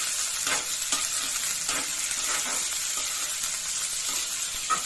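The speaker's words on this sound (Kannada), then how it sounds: "ಮೀಡಿಯಂ ಫ್ಲೇಮ್ ಇಟ್ಕೊಂಡು ಫ್ರೈ ಮಾಡ್ಕೊಳ್ಳಿ." Peas, beans, capsicum and a green chili fry in oil over a medium flame, making a steady close sizzle with regular scraping stirs of a spatula every second or so.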